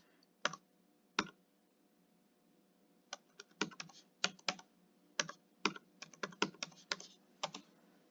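Keystrokes on a computer keyboard as a username and password are entered: two isolated clicks, then a pause, then a quicker irregular run of crisp taps, close and fairly quiet, with no talk.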